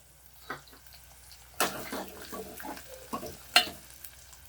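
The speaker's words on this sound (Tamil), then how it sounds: "வெங்காயம் நல்ல எண்ணெயில் வதங்கணும்" Small onions sauté in oil for a brinjal and potato kuzhambu, a soft sizzle beneath intermittent clacks of a spoon stirring the pan.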